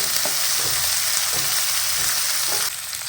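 Capsicum and sweet corn frying in a pan for tomato pasta give a steady, close sizzle, with a few soft stirring knocks and no voices.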